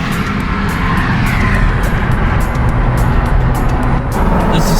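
A 2019 Ford F-150 with a 6-inch lift and 22x12 wheels on 35-inch tires drives around a neighborhood, producing a steady, loud rumble of engine and tire noise with faint ticking on top.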